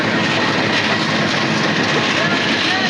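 A loud, steady rumble and roar of a nearby train rolling through Tongi railway station without stopping, with dense rattling noise and faint voices underneath.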